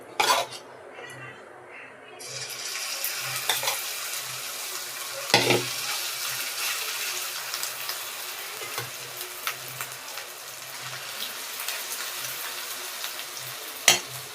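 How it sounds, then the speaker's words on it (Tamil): Steady crackling sizzle of deep frying in hot oil, with occasional clinks of a utensil against the pan and no speech. "ஒவ்வொன்றா போட்டு பொரிச்சு எடுத்துருங்க."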